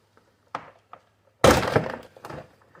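Plastic trim on the rear door of a 2004 Honda Pilot is pried loose: a few small clicks, then a loud cracking pop followed by rattling and scraping, close and with no talking.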